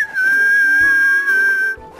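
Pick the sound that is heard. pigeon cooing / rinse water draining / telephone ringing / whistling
whistling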